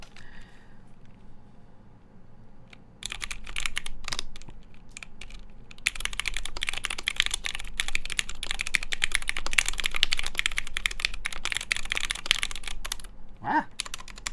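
Typing on a custom Meridian mechanical keyboard with GMK Handarbyte keycaps, a palm plate and Zeal stabilizers: scattered keystrokes at first, then dense, continuous clacking up close in a quiet room.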